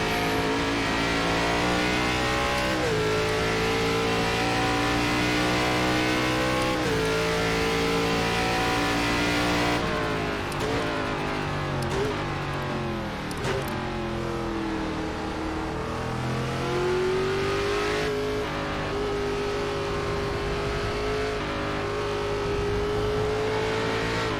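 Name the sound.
race car engine revving in iRacing video game, ARCA series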